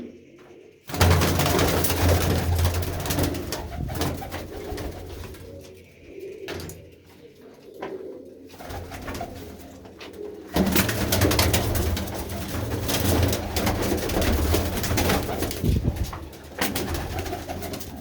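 Pigeons coo in a loft of fancy breeding birds, soft repeated throaty coos near and far over a rustling background, with no talk.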